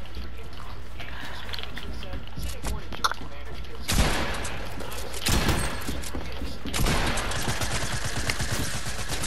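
Gunfire in a shooting video game, loud rattling bursts of automatic fire that come in separate volleys, with casual player voices talking over and between the shots.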